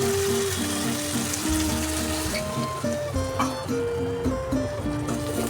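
A masala for cauliflower with green chillies, ground black pepper and a splash of water sizzles and bubbles continuously in a pan, close and fairly loud, with a tonal hum running underneath.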